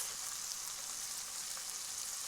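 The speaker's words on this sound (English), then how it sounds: "you should hear a gentle sizzling sound like this" Fish fillet frying presentation side down in a hot pan, giving a steady, gentle sizzle that holds evenly throughout with no talking.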